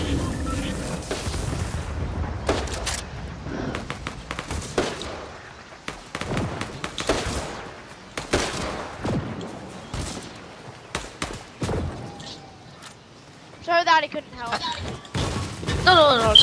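Gunfire in the video game Fortnite arrives as a series of sharp cracks and booming bursts, loud and irregular, with busier stretches broken by quieter gaps and electronic game tones near the end.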